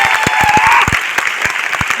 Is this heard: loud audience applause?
yes